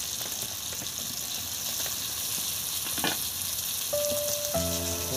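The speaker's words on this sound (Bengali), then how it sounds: "বেগুন ভালো করে ফ্রাই করে নিচ্ছি" Eggplant and potato frying in a pan, a loud continuous sizzle with crackles and a few utensil taps and scrapes.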